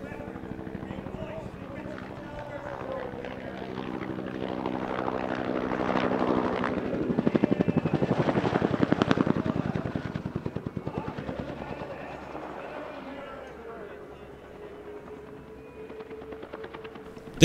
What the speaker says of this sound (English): The Cobra was the first dedicated attack helicopter.